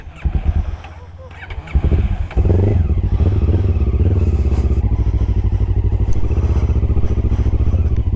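A motorcycle engine on a French touring ride starts up close by, with a few rough cranking bursts before it catches and settles into a loud, steady, pulsing idle.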